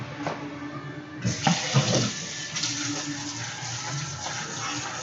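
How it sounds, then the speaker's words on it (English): Beef being washed under a kitchen sink tap: running water starts and gushes steadily, with splashing and handling noises as the meat is rinsed close by. "So I'm going to take it over to the sink and wash it."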